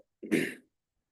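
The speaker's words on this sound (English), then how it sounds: "this cough's quite dodgy" A single short cough or throat-clear during a council meeting, close and fairly loud, lasting under half a second with no talk over it.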